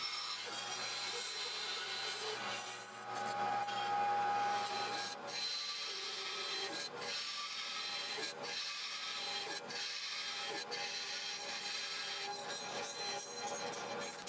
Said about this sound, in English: over at the bandsaw, I rough cut out the shape while staying on the outside of the lines